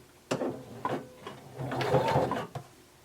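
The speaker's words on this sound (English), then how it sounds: "Now using a 1/2 inch seam allowance, we're going to start to sew, slightly stretching the neckband" A sewing machine stitches a neckband onto a top, a close mechanical whirring run with clunks and knocks of fabric handling around it, moderately loud.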